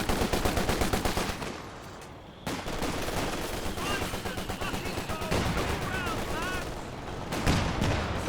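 Rapid, dense gunfire and booming anti-tank shots from the Company of Heroes 2 video game, a loud continuous barrage with a brief lull, while a commentator talks over the battle.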